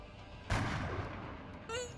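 Sniper rifle gunshot in the video game XCOM: Enemy Within, a single sharp loud blast with a rumbling tail that fades over a second, followed by a brief electronic game tone.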